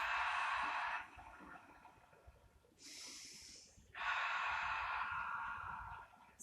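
A person exhales forcefully during a seated exercise on a gym ball, three long breathy puffs heard close up, with quiet pauses between them.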